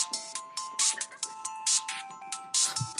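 A mobile phone ringtone plays a loud, rhythmic electronic pattern of repeated bright pulses. The pulses go on steadily for several seconds, close by, with no talking over them.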